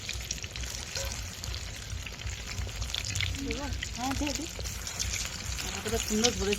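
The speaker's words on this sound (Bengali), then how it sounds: "এবার বেশ ভাজাটা ভালো হচ্ছে" Steady crackling sizzle of food frying throughout, with people talking over it.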